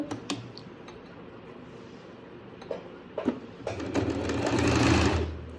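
Sewing machine stitching a salwar hem ponche right alongside buckram interfacing, with brief bursts of stitching early on building to a louder, sustained run near the end, close up and with no voices.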